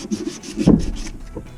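Sandpaper rubbed by hand on a surface during a galvanized water line repair, a few short raspy strokes in quick rhythmic succession, close and fairly loud, with no talking.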